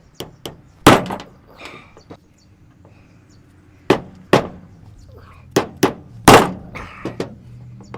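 Dead blow hammer striking a stuck chuck on a Milwaukee 3107-6 drill, sharp close thwacks landing singly and in pairs with pauses between, no talking.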